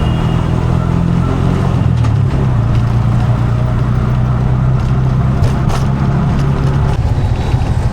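An auto rickshaw engine drones loudly and continuously during the ride, a close, throbbing rumble that shifts pitch slightly as it speeds up, with no voices.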